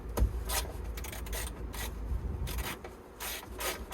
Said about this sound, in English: Normally what I do is I just gently encourage this plastic trim away.